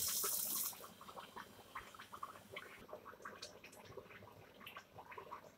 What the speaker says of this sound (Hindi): अब इसमें चने जाते हैं